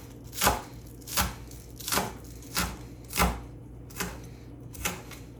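Onions being chopped with a kitchen knife on a board for a salad: seven separate firm chops at an uneven, unhurried pace, close and clear with no talking.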